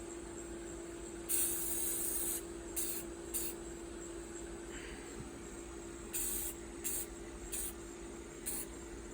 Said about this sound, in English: Got to spray it a little better than that, but it's hard to hold the camera up and spray